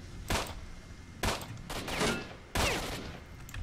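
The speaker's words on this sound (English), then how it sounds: "Not a good place when they all start firing like that." Enemies open fire in Stalker: Shadow of Chernobyl, with loud gunshot bursts at three moments, each sharp crack followed by a long decaying rumble and echoing rattle of gunfire.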